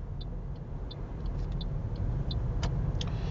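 A car pulls away after changing lanes during an automatic-transmission driving test, its steady engine and road rumble heard from inside the cabin, with a few faint ticks over the continuous drone.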